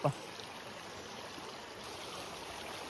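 Water streams steadily along an outdoor watercourse in a continuous soft rushing murmur, heard close and alone after a brief knock at the start.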